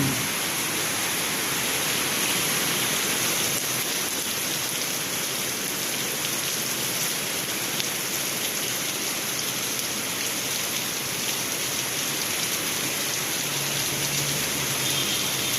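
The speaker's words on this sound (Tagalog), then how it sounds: "Dahil sa kalakas ng ulan." Heavy rain pours down in a steady, even hiss that stays constant throughout, with no voices.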